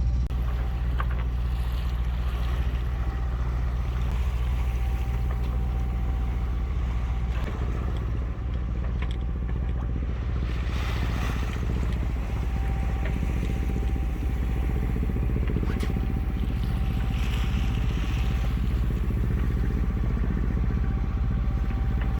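A sailboat motors under engine across a calm Bay of Biscay, its steady, loud engine drone running unbroken for the whole stretch with faint wind and water underneath and no talk.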